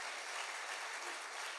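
A congregation applauding during a church sermon, a dense, steady burst of many hands clapping in a large room, brief and fairly distant.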